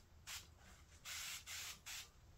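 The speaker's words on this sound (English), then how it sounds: "Spray it down. Spray down your foot." Cleaner sprayed onto synthetic fight gear, foot pads included, in a garage: four short, close hissing bursts, the last three longer and evenly spaced, with no talking.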